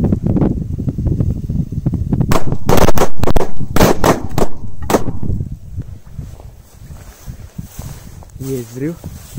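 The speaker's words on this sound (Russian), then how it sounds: "Есть взрыв." Several sharp, loud bangs from big firecrackers set off under ice in quick succession, then quieter rumbling and a brief voice near the end.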